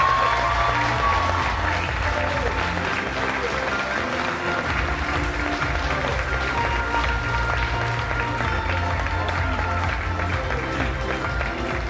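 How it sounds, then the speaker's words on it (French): Sustained audience applause at a lace queen pageant in Caudry, steady and dense for the whole stretch with music or background tones underneath and some crowd voices mixed in. "Sous vos applaudissements."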